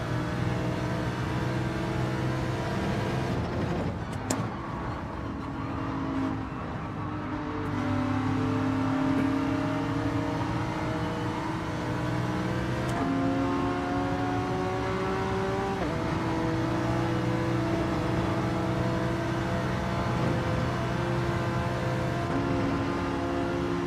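Honda NSX race car engine in Gran Turismo 7, droning steadily at high revs with rising pitch sweeps as it shifts and pulls toward top speed, loud and continuous with no talk over it.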